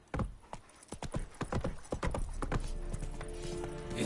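Roach the horse gallops in The Witcher 3, hooves beating a quick, steady clip-clop rhythm up close, loud and alone, with hoofbeats blurring into continuous running noise toward the end.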